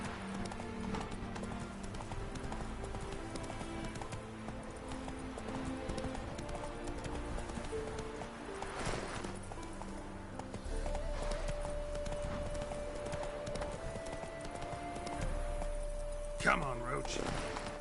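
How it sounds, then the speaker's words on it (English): Horse hooves clip-clop at a steady galloping rhythm in The Witcher 3 video game, with occasional whinnies over game music and ambient sound, close and continuous. "Run, Roach."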